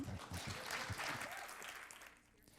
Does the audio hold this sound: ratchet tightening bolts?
no